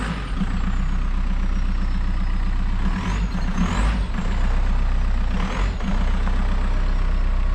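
A VW MK4 Golf VR5 4Motion engine, started cold, settles into a steady, rumbling idle. It is loud and close, with a couple of brief rises in the engine note partway through.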